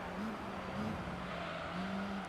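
A race car's engine in Gran Turismo 3 drones steadily along Tokyo's fast main straight, a continuous low hum with slight pitch rises as it accelerates, moderately loud and without speech.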